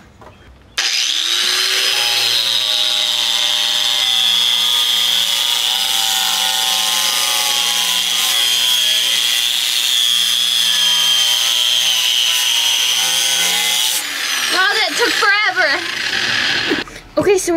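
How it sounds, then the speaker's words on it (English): A power grinder works car body metal on a 1965 Ford Falcon before welding, a loud steady high-pitched grinding whine held for about thirteen seconds before it winds down, followed by scraping and handling noises, with someone talking over it. "we're just gonna grind down this area to see if this is the exposed metal or if there's paint on it"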